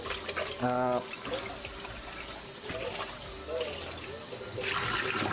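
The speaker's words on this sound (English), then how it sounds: "I guess I should clean this pot first" Running water rinsing a cooking pot in a home kitchen, a steady splashing and trickling stream with a brief tonal clink near the start, a close and fairly loud wash throughout.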